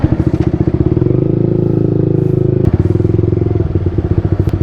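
A Yamaha R15 V3 with a Tridente F22 aftermarket exhaust runs loud and close, its deep pulsing idle rising into a brief steady rev before settling back to a throbbing idle.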